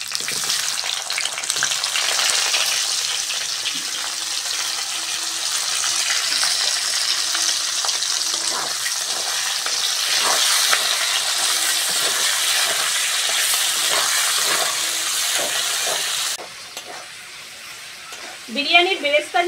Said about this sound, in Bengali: বিরিয়ানির বেরেস্তা যেরকম ভাবে হয় সেরকম ভাবে পেঁয়াজটা ভেজে নেব